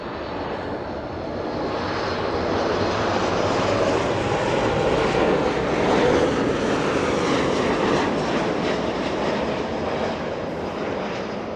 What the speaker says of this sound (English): We have 1, 2, 3, 4 heavies landing one after the other